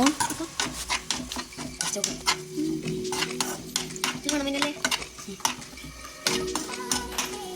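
Gooseberry, mango and garlic pickle is stirred in a pot, giving a run of close scraping and clinking strokes of the spoon against the metal with a light sizzle beneath, loud and fairly steady throughout.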